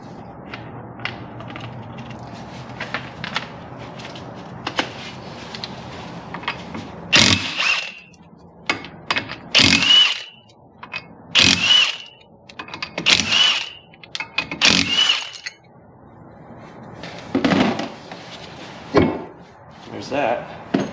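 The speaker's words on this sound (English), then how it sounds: "ripping these 17 mils out" Pneumatic impact wrench hammering out 17 mm wheel spacer bolts on a car, sharp loud bursts of rattling every couple of seconds, with clanks and handling noises between them and someone talking early on.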